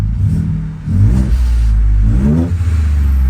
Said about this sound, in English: It does have an exhaust, as you can hear.